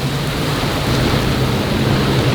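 Steady heavy rain roars with a low rumbling undertone like distant thunder, dense and continuous throughout, during a summer storm aboard a boat.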